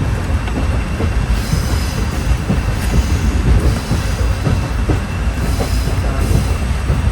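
A moving train as heard from inside a carriage, with a continuous loud rumble, rhythmic wheel clatter and occasional high squeals from the rails, and no talking.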